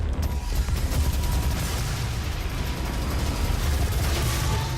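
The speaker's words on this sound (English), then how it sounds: "Explosions." Dense, continuous blasts and rapid gunfire from the video game Doom, loud and unbroken with no gaps for the full few seconds, and no talk over it.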